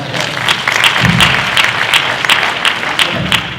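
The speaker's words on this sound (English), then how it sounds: "Give them a round of applause." Audience applause fills a panel session at a retreat, a steady dense wash of many hands clapping close and loud, with a few sharper claps standing out and faint voices beneath.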